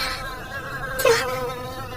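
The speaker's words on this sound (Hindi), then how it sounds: "मधुमक्खी बार बार आकर नताशा के कान के पास आकर गुनगुन की आवाज कर रही थी।" A bee buzzes close by near an ear in a horror story sound effect, a brief droning swell that rises and fades within a second over a quiet background.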